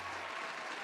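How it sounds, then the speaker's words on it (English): A short, faint burst of clapping from a small group in a podcast setting, soft and steady without clear individual hand strikes. "Round of applause."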